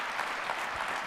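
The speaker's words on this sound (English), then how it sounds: "I think he deserves a big round of applause." A room of people gives a short burst of steady applause, a brief even patter of many hands with no talking over it.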